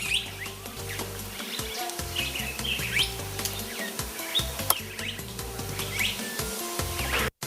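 Birds call and chirp at Makurdi Zoological Garden, with repeated short, bright tweets scattered over a steady outdoor background; no talking.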